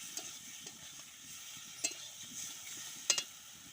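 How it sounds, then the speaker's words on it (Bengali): Potatoes frying in a pan are stirred, giving a soft steady sizzle broken by a few sharp scrapes and clinks of the utensil against the pan. "আলুগুলা দিয়ে দিলাম আলুগুলো একটু নাড়াচাড়া করে দিলাম"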